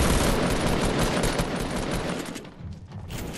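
Rapid automatic gunfire in the video game Fortnite, a loud dense burst of shots that eases off toward the end, with no talk.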